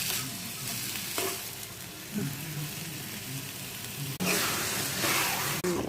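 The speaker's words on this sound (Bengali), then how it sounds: "এখন এক কাপ চিনি দিয়ে দেবো পরিমাণ মতো। ভালো করে মিশিয়ে নেব।" Carrot halwa with a cup of sugar just added is stirred in a pan, a steady sizzle and wet scraping continuing throughout, with a brief clatter and louder stirring near the end.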